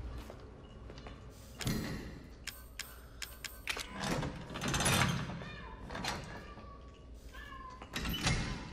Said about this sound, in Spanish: ahí está mi gatita